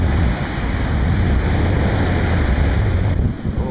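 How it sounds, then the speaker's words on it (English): Big ocean waves break on a beach during surf fishing with kelp in the water, making a loud, continuous roar of surf mixed with wind buffeting close to the microphone. "Just big, big waves, guys."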